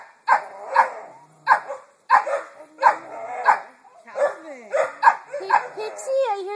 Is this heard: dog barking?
yes